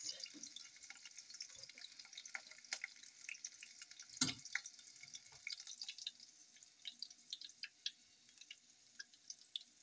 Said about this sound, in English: Drain some of that fat off.